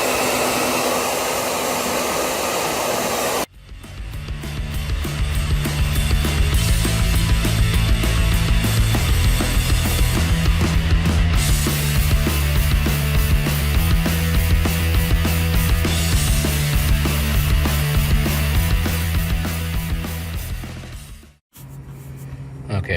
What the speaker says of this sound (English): hit it with the hair dryer first